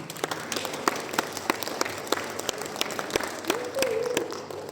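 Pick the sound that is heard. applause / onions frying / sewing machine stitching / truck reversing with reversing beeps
applause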